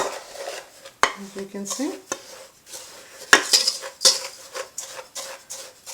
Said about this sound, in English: I'm going to grab my whisk and give it a little mix